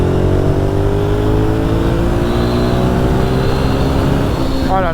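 A 1997 Suzuki TL1000S motorcycle engine revs hard and high, its loud, close note climbing steadily in pitch and holding a continuous throaty drone, with a brief extra burst near the end.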